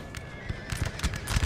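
Cavalry horses whinny and hooves clatter amid a chaotic Napoleonic battle at Friedland in Napoleon Total War multiplayer, with several overlapping neighs and bursts of hoofbeats filling the din.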